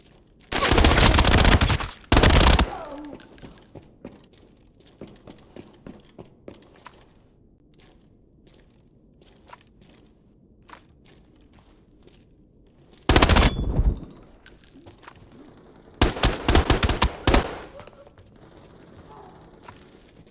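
Gunfire in the shooter game Arena Breakout Infinite: loud bursts of automatic fire come in two clusters, separated by a long stretch of scattered quieter shots, footsteps and faint distant shooting.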